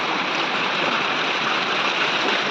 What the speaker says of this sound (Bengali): ছাদের থেকে এইভাবে মোটর নালে জল পড়ে এখানে একটা বালতি আছে